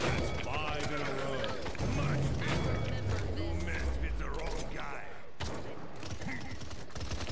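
Frag grenades go off in the Paladins shooter game as clattering bursts and gunfire-like cracks, with one sharper blast near the end, all under ongoing talk.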